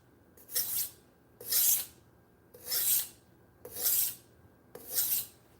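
A knife is drawn across a whetstone in five slow, evenly spaced strokes, each a close, gritty rasp with near silence between passes.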